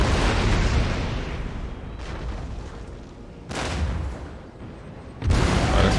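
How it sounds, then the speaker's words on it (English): Cannon artillery fire in the Empire: Total War game, a great rumbling battlefield barrage with heavy booms landing at about two, three and a half and five seconds over a constant roar, with no talking. "Get our cannons to just fire at their general"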